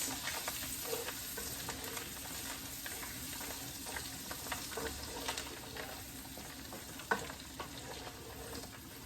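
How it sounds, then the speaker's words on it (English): Chopped onions saute in a pan for a turkey rice casserole, a steady low sizzle and crackle with occasional stirring scrapes and one sharp clink, close and alone without talk. "we're going to just saute this until the onions become translucent"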